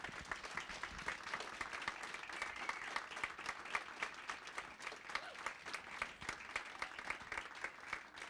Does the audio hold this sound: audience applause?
yes